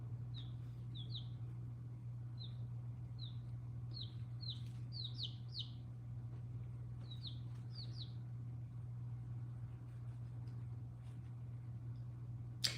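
Chickens give short, high chirping calls in irregular bursts, some in quick pairs or clusters, over a steady low electrical hum, with no talking.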